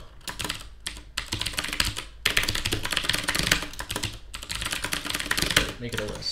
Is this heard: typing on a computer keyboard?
yes